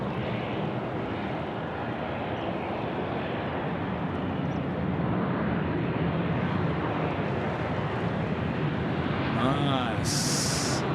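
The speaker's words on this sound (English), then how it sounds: "I'm going to see our Jetstar friends, the A320 Neo, get away off to Melbourne" A Jetstar Airbus A320neo takes off for Melbourne, a steady, swelling jet roar that fills the scene and grows slightly louder toward the end, with a brief faint warble near the close.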